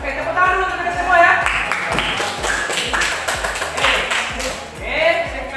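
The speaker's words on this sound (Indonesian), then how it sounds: "tepuk tangan dulu untuk kita semua ya" A classroom of students claps in a steady rhythmic pattern of sharp, even beats, with voices talking before and around it.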